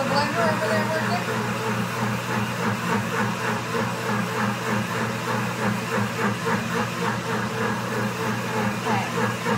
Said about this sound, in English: can you hear the blender over there working?